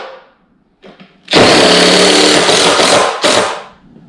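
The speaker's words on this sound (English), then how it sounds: "I'm just going to screw these in and tighten them up." A power driver drives screws into scrap wood, a couple of short bursts followed by a longer loud whirring run and a final brief burst, close and alone.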